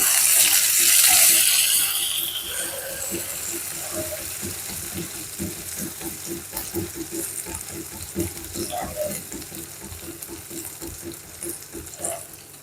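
Small shallots frying in a pan for a jackfruit-rind curry, with a loud hiss at first that settles into a steady sizzle broken by scraping stirs and light clinks, up close.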